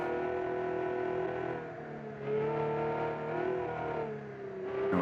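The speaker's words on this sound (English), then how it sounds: "it sounds like a flat plane V12 to me" A flat-plane V12 engine in the Kiev Motors 12 (A23) in the BeamNG racing game revs hard and close, its pitch rising, dipping and climbing again with no voices.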